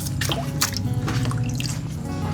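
Bamboo shoots are washed in water by hand, with close splashing, dripping and sloshing sounds continuing steadily without speech.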